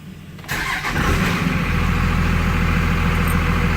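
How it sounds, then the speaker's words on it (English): A 2001 Dodge Ram with a 5.9L diesel that lacks power under load cranks and fires after a brief pause, then settles into a loud, steady, rumbling idle close by. "Now I will start the engine."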